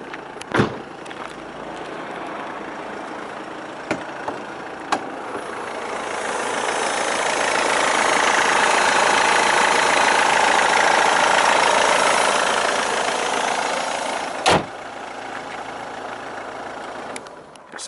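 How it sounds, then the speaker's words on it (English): A Mercedes-Benz E-Class E220 CDI BlueEfficiency 2.1 diesel engine idling under an open bonnet, a steady clattering diesel hum that swells slightly mid-way, with a few sharp clicks or knocks. "Keep the engine running so you can have a listen."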